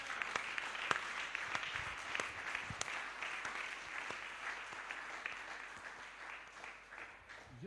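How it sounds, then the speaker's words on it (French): A French-speaking church congregation gives a long round of applause, steady distant clapping with occasional sharper individual claps, quiet and sustained throughout with no talk on top. "Donne à Jésus une offrande d'acclamation."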